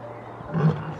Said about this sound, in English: A male lion, whose main job is to defend his pride, uses his loud roar to warn off anything that might threaten his family.